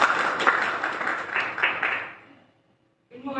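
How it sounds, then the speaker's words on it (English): Audience clapping at a candidates forum, a brief burst of many hands that fades out into near silence before a voice begins speaking at the end. "You can clap, it's okay."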